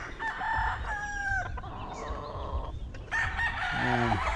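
Young roosters (stags) at a poultry farm crow repeatedly, several overlapping calls near and farther off, with clucking and faint background talk.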